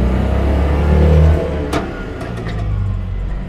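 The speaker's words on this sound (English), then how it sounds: "as the engine revs come up, it engages and we're away" A British-built 1955 Citroën 2CV with a 425cc engine and centrifugal clutch revs up and pulls away on the road, a loud, buzzy mid-pitched engine note rising then settling, with a few brief clicks or knocks.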